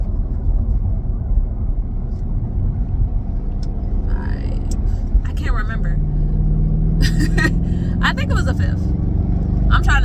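A car driving with the driver shifting gears, a steady, loud engine rumble that changes pitch as the gears change, with a few brief higher clicks and whines over the drone.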